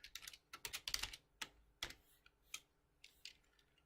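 Quick bursts of computer keyboard typing while code is entered in a programming exercise, close and crisp, with uneven clusters of keystrokes and short pauses, alone without talk.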